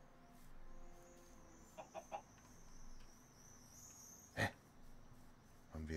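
A chicken in the video game Minecraft clucks in a few short, soft bursts, followed by one louder squawk, over a faint steady background.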